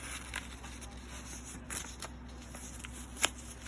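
A sheet of square paper is creased and folded in half to start a paper boat, giving soft, faint crackles and a few brisk rustles close by, with no talk over it.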